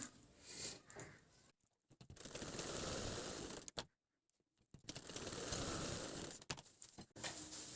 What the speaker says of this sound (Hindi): अब हम इसकी सिलाई कर देंगे।